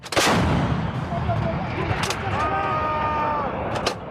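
An M777 towed 155mm howitzer fires live rounds during a Marine exercise: a loud close boom at the start, then rumbling echo, with shouted crew commands and further sharp blasts later.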